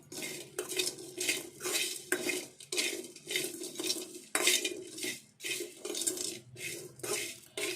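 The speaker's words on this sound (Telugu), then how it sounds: "ఈ కొబ్బరి ముక్క కూడా వేపుకుందాము." Coconut pieces being fried in a pan for an egg fry, with a utensil scraping and stirring against the pan in regular, repeated strokes, close and fairly quiet, no talking.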